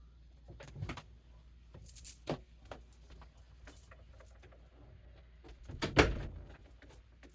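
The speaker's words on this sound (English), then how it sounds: "let me shut the door" Someone shuts a door indoors: scattered knocks and shuffling sounds lead to a louder thump near the end, with a soft click and rattle, fairly close and without speech.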